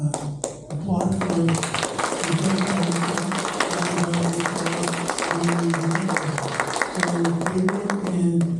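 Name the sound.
audience applause for a panel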